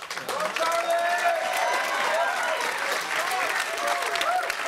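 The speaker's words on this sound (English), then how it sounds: "let the crowd give you a round of applause for coming to talk to us" Crowd applause at a press conference, a dense sustained clapping that swells and carries on for several seconds, mixed with indistinct voices and cheering.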